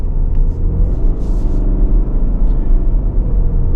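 A Subaru Outback with a naturally aspirated engine pulls away after braking, its engine and road rumble building steadily close by, with no talk over it.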